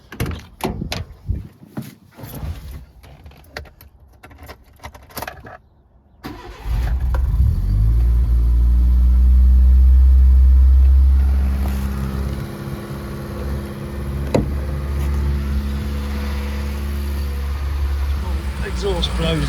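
Nissan Micra K10 starts after a few seconds of rustling and door handling, its engine catching with a loud surge and then settling into a steady, close idle as it warms up.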